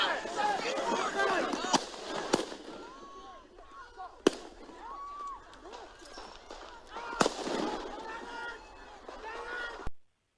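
A long gun fires at protesters in a street: several sharp, loud cracks spaced out over about ten seconds, heard amid crowd commotion, shouting and running footsteps.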